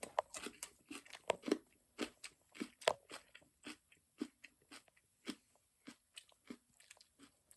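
Crisp crunching bites into a home-grown first-of-the-season pepper, followed by repeated close-up chewing crunches in an irregular rhythm, fairly quiet with no talking.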